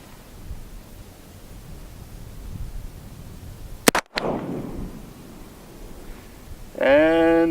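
A single sharp gunshot from an 1847 Walker Colt black powder revolver, outdoors, a sudden loud crack followed by a decaying rumble, with quiet background hiss before and after.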